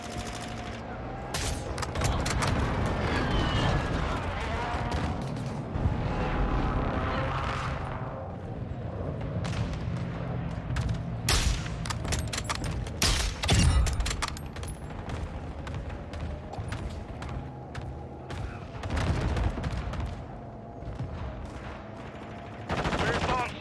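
Airstrike explosions and rattling gunfire in Call of Duty: Modern Warfare II, with repeated bursts, sharp shots and heavy booms over a continuous battle din, with radio voice callouts.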